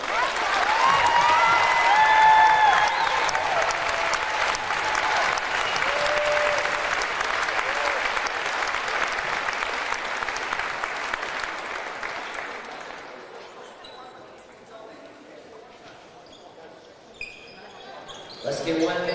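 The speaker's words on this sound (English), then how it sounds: "So let's give one more big round of applause for him." Audience applause and cheering fill a high school boys basketball gym, loud and sustained for about twelve seconds, then fading to murmur and scattered movement with a brief burst of noise at the end.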